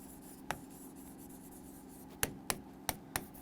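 Writing on a board or paper in a class lesson: a few faint, sharp taps and short strokes of the pen or chalk at irregular intervals over a quiet background hum.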